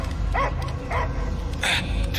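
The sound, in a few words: dog barking in the video game Guardians of the Galaxy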